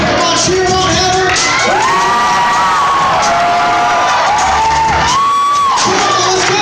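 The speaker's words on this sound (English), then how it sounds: "Come on, cheer him on, Heather." A crowd cheers on a strength-team athlete, with loud, sustained whoops, shouts and children's yells rising and falling over music, close and energetic for the whole stretch.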